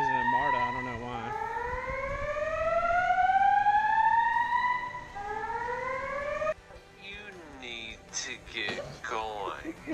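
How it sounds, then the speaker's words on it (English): Rising and falling electronic sirens wail loudly in an echoing MARTA transit station in Atlanta, then give way to other alarm tones. "Sirens are going off for some reason in MARTA."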